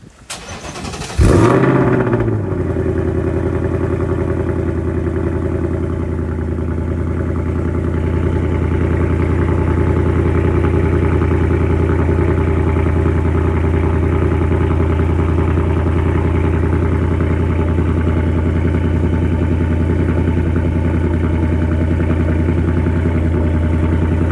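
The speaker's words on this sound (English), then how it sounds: "I haven't turned on the car for about 2 days already, so you guys are in luck for a really good cold start." A Ford Mustang S650 with an X pipe exhaust cold starts with a sharp crank and a loud flare of revs, then drops into a steady, deep, rumbling fast idle that holds loud and close.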